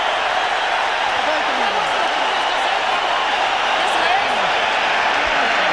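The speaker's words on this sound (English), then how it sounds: "The crowd on their feet applauding both fighters for that." At a boxing match featuring Erik Morales, a crowd on its feet applauds both fighters, a dense, steady roar of clapping and cheering heard at a distance, with commentators talking over it.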